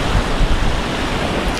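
Flowing river water, swollen by the afternoon rise, makes a loud, steady broadband rush with constant low churning, close by and unbroken, with no voices.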